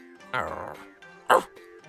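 A voice imitates a dog barking in two short, close vocal bursts, the second sharper and louder than the first.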